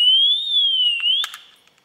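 A motorcycle disc lock alarm gives a loud, steady electronic tone that wavers slightly in pitch, then breaks into a couple of short chirps before fading out.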